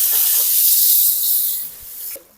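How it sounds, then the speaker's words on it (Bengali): Onions hit hot oil in a wok, giving a loud bright sizzle that fades slightly before cutting off abruptly near the end. "পেঁয়াজটা কড়ার মধ্যে দিয়ে দিয়েছি, ভালোভাবে ভেজে নেব।"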